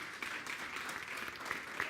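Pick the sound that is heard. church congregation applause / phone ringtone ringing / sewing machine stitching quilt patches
church congregation applause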